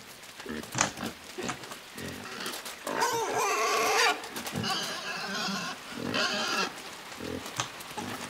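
A pig in the game Inside grunts and squeals repeatedly, with rough oinks and a few longer, louder squealing cries, close and alone without talk.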